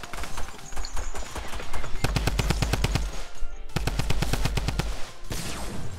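Rapid automatic gunfire in Fortnite: two long, close, loud bursts of evenly spaced shots, with a short pause between them and a scattering of quieter shots around them.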